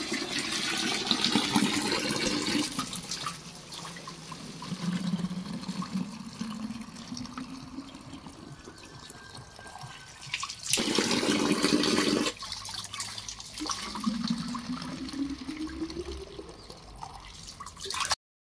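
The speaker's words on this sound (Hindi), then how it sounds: "तो चलिए हम भर लेते हैं पानी" Water gushes and splashes into bottles being filled at a roadside spring in Uttarakhand, a rushing, gurgling flow that swells and shifts in pitch as the bottles fill, with a brief louder burst midway.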